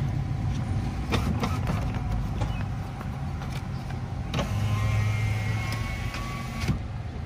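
A new power window motor in a 2013–2015 Nissan Altima door drives the glass, a steady low whir running under faint clicks and rustle, swelling briefly near the end.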